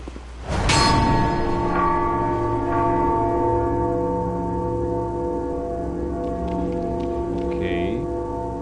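A bell in the video game Bloodborne strikes once loudly near, then its deep, layered metallic tone rings out and slowly decays over several seconds, with faint chimes late on.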